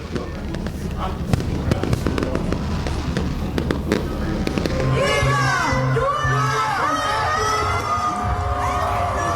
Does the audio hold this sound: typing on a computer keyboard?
no